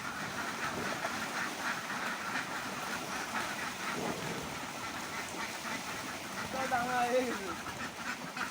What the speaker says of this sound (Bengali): হাঁসগুলো ছাড়লাম দেখেন কত সুন্দর হাঁসগুলো বেরোয় চলে যাচ্ছে